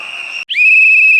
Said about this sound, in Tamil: வாயில விசில் வச்சிருக்கா.